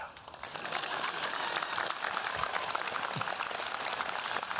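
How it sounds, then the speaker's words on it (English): Audience clapping at a commencement ceremony, a steady, fairly faint wash of many hands applauding from a distance for several seconds. "Clap."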